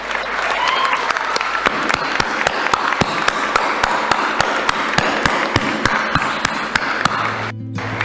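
A crowd rising to its feet to applaud and honour soldiers at a film pre-release event, loud dense clapping with sharp, regular claps standing out, continuing for several seconds before a brief drop.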